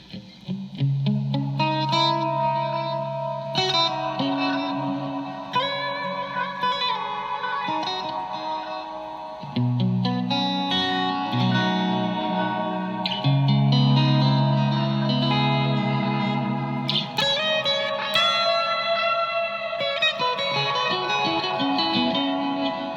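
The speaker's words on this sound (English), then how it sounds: "let's put the reverb and delay together." Electric guitar through a Blackstar Core ID 40 amp playing melodic runs and sustained notes, drenched in reverb and echoing delay that trails after each phrase.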